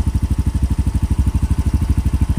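A Mio M3 motorcycle engine idles close by with a fast, steady, even chugging pulse of low putts, loud and unbroken, and no voices.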